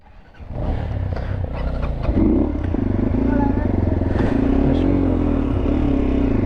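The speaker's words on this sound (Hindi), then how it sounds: "उमैर भाई का बेटा जो है वो उनकी बाइक चला रहा है" A motorcycle starts moving and rides on, its engine rising to a steady close, loud putter with rhythmic exhaust pulses and some rattling, a voice speaking over it during the ride.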